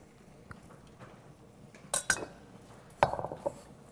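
Asparagus and breadcrumbs are tossed together in a bowl for a creamy fettuccine primavera, giving soft scraping and a few sharp clinks of a utensil against the dish, with quiet pauses in between.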